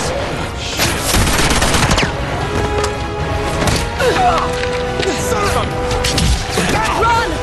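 Guns fire in a volley during an Uncharted 2 cutscene, a loud, sustained clatter of shots and impacts lasting several seconds, with shouting voices mixed in.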